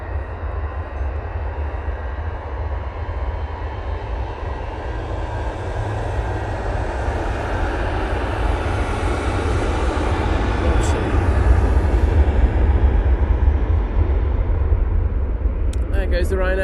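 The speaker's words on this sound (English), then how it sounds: "There goes the Ryanair to Venice." A Ryanair jet bound for Venice departs snowy Manchester Airport, a loud, continuous engine roar with deep low rumble that swells gradually in the latter half, likely blended with wind and nearby handling noise.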